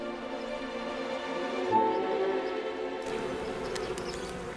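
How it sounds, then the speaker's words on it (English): Gallica wasps buzz in hot, dry conditions, a steady insect drone with a near pass midway and a thinner, wider texture in the last stretch. "The Gallica wasps now have to battle the heat."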